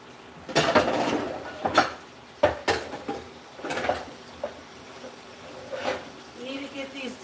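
Dishes being washed by hand, with irregular clinks and clatters of plates and cutlery against a sink, some sharp knocks standing out over a steady background, close and moderately loud with no talking.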